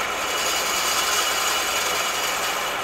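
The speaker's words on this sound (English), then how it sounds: "Bring the drill down, we'll preset it so we're only going to go a 16th of an inch deep." A drill bores a shallow, depth-preset hole into a 1275 A-Series engine block, giving a steady, even grinding hiss that runs unbroken and close by throughout.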